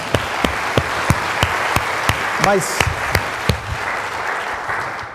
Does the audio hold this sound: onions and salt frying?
no